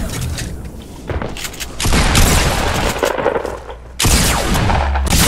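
Loud bursts of rapid gunfire and booming blasts fill the clip in Fortnite gameplay, repeated volleys crackling close by over a chaotic background.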